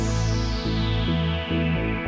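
A sustained synthesizer pad preset with wide stereo plays a thick layered chord that changes every half second or so, with a steady, lush tone and no talking.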